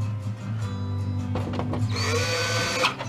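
Power drill driving screws back into a flat-screen TV mount: a steady motor whir that rises in pitch toward the end, recorded close up.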